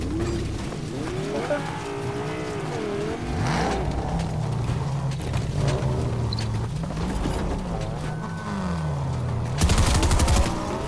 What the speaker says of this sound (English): Stop shooting the car.